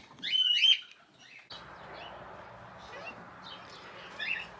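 Young red-rumped parrot chicks in a nest box give a few sharp, high chirps at the start and again near the end, over a steady low hiss with faint background murmur.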